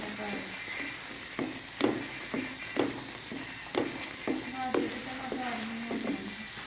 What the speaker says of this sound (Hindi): तो अब हम 1 मिनट तक इसे और भूनेंगे।